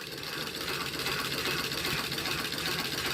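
An antique Singer sewing machine winds a bobbin with a fast, steady mechanical whir and rapid rattling, close and continuous for a few seconds with no pauses.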